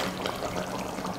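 Water poured into a simmering kulambu (Tamil curry) that already holds ground coconut, a steady close pour lasting about a second with no talking.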